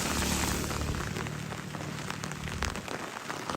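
Rain driven by strong cyclone winds in Jaffna beats on surfaces in a dense, continuous, close roar with scattered drop impacts throughout. No voices are heard.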